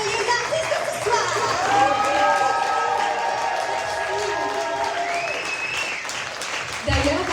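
Theatre audience applauding and cheering the performers after a live show, sustained dense clapping with whoops and excited voices, fading slightly before a brief swell at the end.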